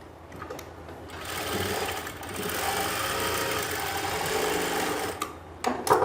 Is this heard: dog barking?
no